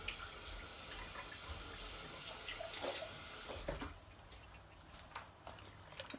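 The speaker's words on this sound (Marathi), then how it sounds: "वाटणाच्या भांड्यामध्ये थोडंसं पाणी टाकून परत त्याच्यामध्ये ओतायचं" Water is poured from the masala-grinding vessel into a Malvani fish curry, making a steady splashing gush for several seconds that stops abruptly, followed by quieter drips and small clinks up close.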